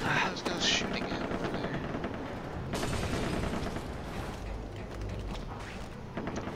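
Gunfire crackles in the video game Far Cry 3, with sharp scattered shots and bursts over a busy, rumbling background of mechanical game sounds.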